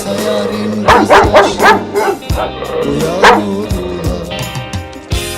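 A dog barking sound effect in a PUBG Mobile comedy montage: a rapid series of loud, close barks and yips, then a few scattered barks and a whimper over background game noise.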